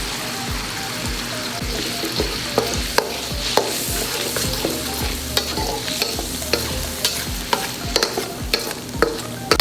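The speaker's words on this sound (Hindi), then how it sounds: "अदरक लहसुन थोड़ा भुनने के बाद आपने इसमें प्याज डाल देना है" Onions frying in hot oil with ginger and garlic in a karahi, a steady sizzle under repeated scraping and clinking strokes of a stirring spoon against the pan, close and continuous without talk.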